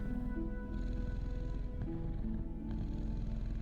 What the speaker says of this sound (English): Listen to that bell bug purr.